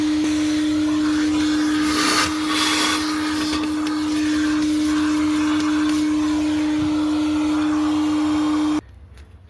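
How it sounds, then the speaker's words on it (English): A vacuum cleaner sucking ash out of the firebox of the steam locomotive Mazeppa, a loud steady whine with a strong tonal hum, air-rush surges near the start, then cutting off abruptly just before the end. "I'm just going to vac that out."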